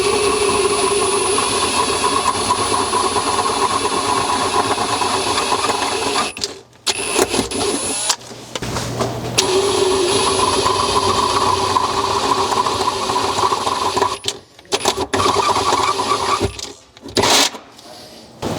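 A power drill fitted with a 23/64 bit bores holes in a Lexus GX 470 floor, whining steadily through long runs broken by brief pauses, loud and close with no talk.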